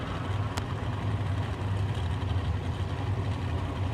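2003 Chevrolet S10 extended cab supercharged drag truck running on alcohol at a drag strip, a loud, steady low engine rumble that holds constant without breaks.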